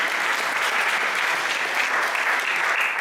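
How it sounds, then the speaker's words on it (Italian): A dense, steady round of applause from an audience at a social gathering, many hands clapping together at an even level throughout. "Facciamo un applauso che intanto ci scaldiamo un po'"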